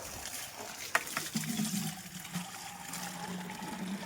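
Water runs and trickles steadily at low volume, a continuous gurgling flow with a faint hum underneath.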